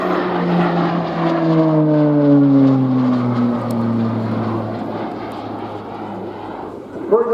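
A Slovenian 152nd Fixed-Wing Squadron display aircraft roars overhead with a propeller at an air tattoo show, loud and close, its engine drone sliding lower in pitch as it climbs and rolls through the manoeuvre.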